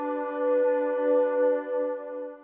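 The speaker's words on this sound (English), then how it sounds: "it's this forest flute sound" A single sustained, airy flute-like synth note rings out with a soft, slightly wavering swell before fading.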